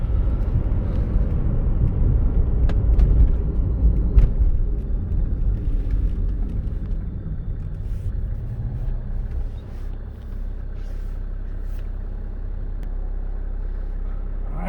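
A 1996 Mercedes-Benz E300 diesel with the inline-six OM606 engine accelerates from a first-gear start, a loud, steady low rumble heard from inside the car that eases slightly partway through.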